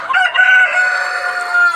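Sonali breeder chickens, about 1,300 birds in a poultry shed, cluck and call loudly and continuously close by, a dense chorus of fowl sounds with one drawn-out, crow-like call standing out.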